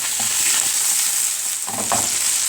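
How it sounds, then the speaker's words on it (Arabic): Sausage stir-fries in a very hot pan with a constant loud hiss and crackle, while a few scraping stirs of a utensil cut through the sizzle, close up. "شوحي السجق"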